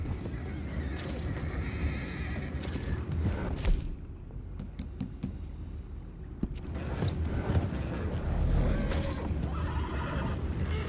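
Horses whinny and neigh repeatedly amid clopping hooves and creaking in Red Dead Redemption 2, with loud bursts separated by quieter stretches.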